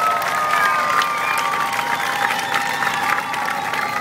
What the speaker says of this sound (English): So, let's hear it for the Captain.